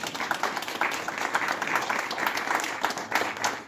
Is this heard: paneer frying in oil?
no